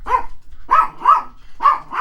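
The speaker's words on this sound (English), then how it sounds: "I don't know what my dogs act like they think somebody's home" Several house dogs bark close by in repeated short bursts, riled up as if someone were at the door, with barks overlapping in quick pairs.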